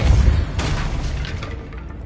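A Bombarda blast spell in a Harry Potter video game, a single loud, deep boom with a bright crackling burst that decays over about two seconds.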